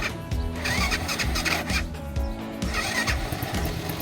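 A Lifan KP Mini 300 motorcycle with a ZS175FMN engine cranks and fires, giving a loud, close, rough uneven engine rumble that surges and dips over a few seconds, with no voices.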